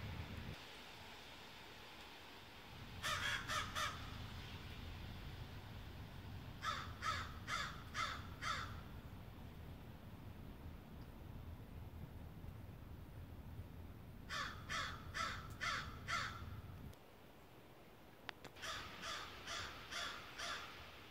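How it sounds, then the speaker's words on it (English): A crow caws in loud repeated bursts of four or five harsh calls, several separate bouts over a steady low rumble of surf. "So annoying. Loud, obnoxious bird."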